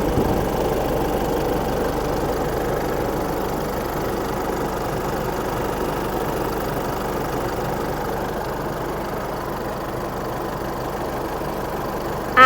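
A 3.0 diesel engine in a 2022 Isuzu MU-X idles steadily up close, a low, even clattering rumble that holds for several seconds without revving.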